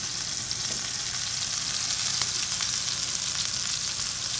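A chuck roast searing in a cast iron skillet makes a constant, crackling sizzle close by, an even hiss dotted with tiny pops of spattering fat and no talking.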